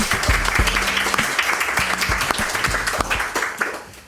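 Applause for a first youth podcast episode: a small group clapping steadily for about four seconds, close and fairly loud, with a few low thumps underneath and no voices.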